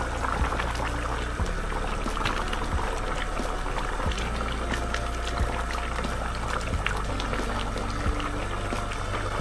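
A pot of fish curry bubbles and simmers steadily up close, with a continuous liquid gurgle and occasional soft pops throughout.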